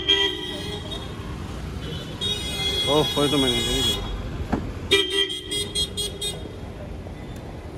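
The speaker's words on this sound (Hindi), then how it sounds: "लो गाइस तो अपनी गाड़ी आ चुकी है" A car pulls up on a Lucknow street amid traffic, sounding its horn in sharp toots, first a long blast and then a rapid run of short beeps, while someone talks over the road noise.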